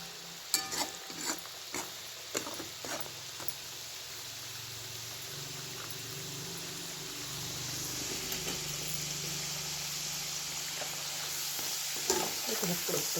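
Green and red chillies fry in a pan of oil with a soft, steady sizzle. Spoon-stirring scrapes and clinks come in bursts near the start and again toward the end.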